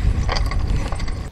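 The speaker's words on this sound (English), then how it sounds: "if you're wondering what that noise is, it's my gears" Bicycle gears click in a quick, close, rapid ratcheting patter while riding, with small mechanical ticks over a low rumble of wind and motion.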